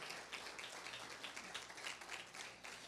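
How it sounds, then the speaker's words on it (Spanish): A church congregation gives a sustained round of dense applause, faint and distant, steady throughout with no talking over it. "Denle un aplauso al Señor"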